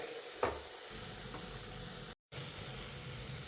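Soya chunks with egg in a pepper roast being stirred in a pan: a steady low frying hiss with one brief scrape of the spoon early on and a short dropout midway, without talk.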